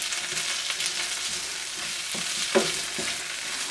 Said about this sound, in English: I'm going to go ahead and add our chilies in here, our green onions. I'm going to stir that in there.